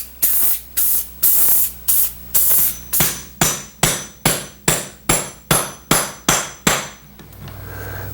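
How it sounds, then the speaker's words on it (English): Clear lacquer sprayed onto metal parts of an 1870s Victorian chair: about a dozen short, loud hissing bursts in a steady rhythm from a spray gun, each ending sharply, close by with no talk. "Shoot these with a clear coat of lacquer and prevent rust."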